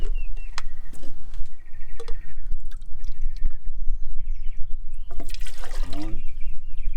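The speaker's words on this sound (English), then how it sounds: "we're going to go ahead and fill it up with 2 cups of water." Water poured into a pot on a Camp Chef Stryker 200 camping stove, a steady liquid trickle and splash with a louder gush toward the end, close by.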